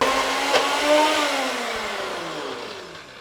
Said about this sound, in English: We're now going to give that a little blend